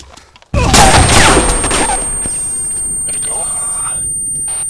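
Grenade blast in ArmA 2 with the ACE mod: a sudden loud, broadband boom after a brief near-silence, then a long rumbling, crackling tail that settles into steady background noise.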